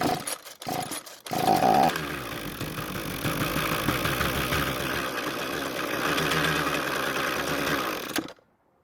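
A Ryobi string trimmer's small two-stroke engine, running on fuel poured into the carburetor, sputters to life after a few pulls and then runs loud and steady for several seconds before cutting out abruptly.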